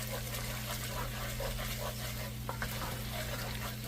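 A spoon stirs oxtail stew in a pot, making soft wet scraping and sloshing against a steady low hum of the stove, close and continuous with no talking.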